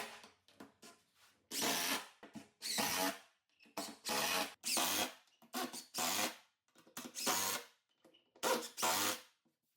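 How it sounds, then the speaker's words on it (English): A router fitted with a 3/4 inch straight cut bit runs along a straight edge, cutting grooves into the wood wings of a miter saw station. Loud, close, harsh whining bursts repeat about eight times, separated by short quiet gaps. "I'm using a 3/4 inch straight cut bit and my router with a straight edge to make these grooves"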